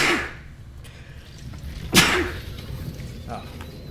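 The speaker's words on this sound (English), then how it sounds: "I'm gonna sneeze." A single sudden sneeze bursts out near the middle, loud and close, with a faint breathy intake before it and quieter room noise and a soft voice around it.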